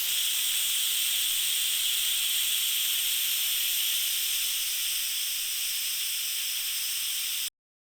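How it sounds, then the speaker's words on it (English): An Instant Pot vents pressure in a quick release while making macaroni and cheese, a loud, steady steam hiss running unbroken for several seconds before cutting off abruptly. "we're going to do a quick release of the Instant Pot to release all of the pressure"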